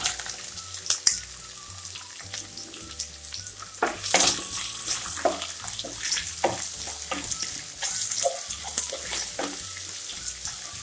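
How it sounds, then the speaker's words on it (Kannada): Sliced onions fry in oil with ginger and curry leaves for poha, a close, continuous sizzle broken by scraping and clinking as a spatula stirs the pan. "ಕೆಂಪಾಗೋವರೆಗೂ ಹುರ್ಕೊಳ್ಳೋಣ ಈರುಳ್ಳಿನ"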